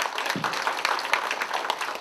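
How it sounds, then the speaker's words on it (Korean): Audience at an education council anniversary assembly clapping to welcome the district mayor, a brief steady burst of many hands applauding close and clear, no voices over it. "박수로 맞아주십니다."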